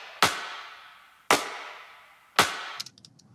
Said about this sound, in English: Live clap, again, this one's got kind of a bunch of reverb on it.